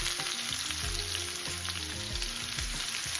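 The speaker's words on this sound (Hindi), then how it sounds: "अब मैं यहाँ पर अनियन फ्राई कर लूँगी" Onions frying in a pan over a medium flame for navratan pulao, a soft continuous sizzle heard alone at low level beneath steady tonal background music, with no one speaking.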